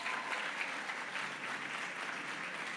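Steady, moderate applause from an audience at a political speech, a dense wash of clapping that holds evenly throughout without any talk over it.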